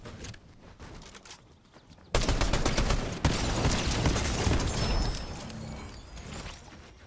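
Gunfire bursts out in a Fortnite match, a loud sudden volley at about two seconds followed by a second crack and sustained rattling shots, after a quieter stretch of faint game sounds.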